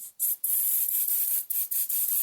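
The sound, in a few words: spraying spray adhesive for glitter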